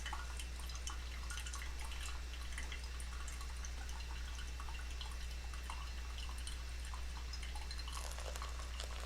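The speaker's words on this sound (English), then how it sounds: "slowly add water with a real controlled drip here." Water trickling and dripping through a pour-over coffee filter as it is slowly added in a controlled stream, soft and close over a low steady hum, with no voices.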